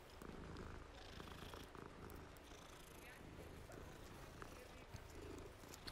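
A cat purrs in Hogwarts Legacy, a soft steady rumble close by that keeps going throughout, with game ambience and faint voices beneath it.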